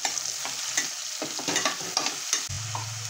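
Chopped tomato sizzles in a pan with onions softened until translucent for a broken-wheat and moong dal vegetable khichdi, a close, moderately quiet fry with stirring scrapes and a low clunk near the end, no voices.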